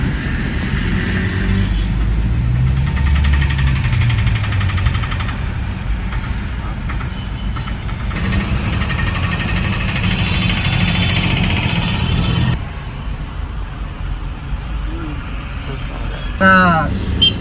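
Cars and other vehicles crawl through a jammed road in Bhubaneswar beside a service road, producing a steady, close rumble of engines and road noise that eases slightly near the end.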